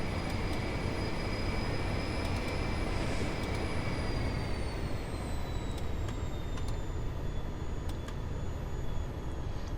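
Learjet engines spin up in the Aerofly FS 2021 flight simulator, a steady loud roar with a high whine that slowly shifts in pitch, plus a few faint clicks.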